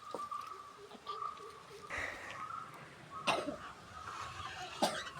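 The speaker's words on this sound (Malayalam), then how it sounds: "നമുക്ക് ചുമയുണ്ട്," A few short coughs spaced apart, close and moderately loud, with faint bird cooing in the quiet background and no talking.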